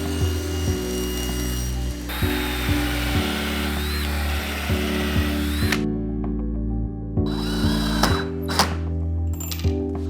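A power drill drives screws into a red oak scrap on a table-saw taper jig fence, its whining motor revving up and cutting off in repeated short bursts, close and loud.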